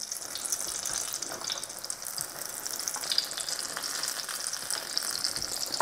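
Apple rings frying in a pan, a close, steady crackling sizzle of batter in hot fat that runs evenly throughout with no speech.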